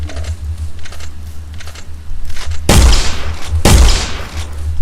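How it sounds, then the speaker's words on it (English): Tracking bullets fired in the game Finding Bigfoot, two loud booming gunshot bursts after a stretch of softer clicking and low hum. "I accidentally just shot him with a bunch of tracking bullets"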